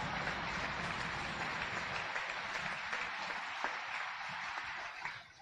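The audience at a California governor's State of the State address applauds loudly and continuously throughout, a dense, even clapping from a large crowd.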